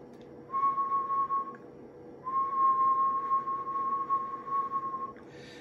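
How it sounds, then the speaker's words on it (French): A steady high whistle sounds twice, a short blast followed by a longer one, clear and fairly close over a low background hum. "je vais donner un coup de sifflet"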